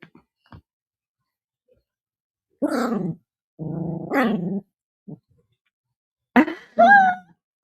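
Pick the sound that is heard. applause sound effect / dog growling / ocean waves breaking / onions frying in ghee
dog growling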